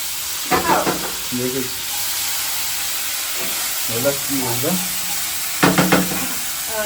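Bottle gourd kofta fries in a pan with a steady, close sizzle and hiss, broken by a few short bursts of talk.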